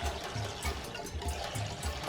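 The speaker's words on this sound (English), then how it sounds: "now I'm going to add a bit of water into it for the blending to be easy" About two cups of water poured into cassava in a blender jar, a close, steady gurgling trickle with small splashy pulses, fairly quiet.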